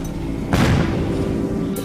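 Secondary explosions set off by an AC-130 style gunship's fire at night: a single deep, muffled boom swells over a steady low rumble, heard from far off.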